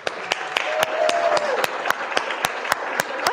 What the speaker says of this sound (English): so we can give them a bit of a round of applause and a thank you